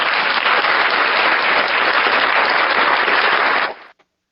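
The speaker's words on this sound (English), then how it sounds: "Let's give him a round of applause for getting him on here tonight." Loud, close applause for a Cavs running back and linebacker after his interview, dense crackling claps sustained evenly for over three seconds before stopping abruptly.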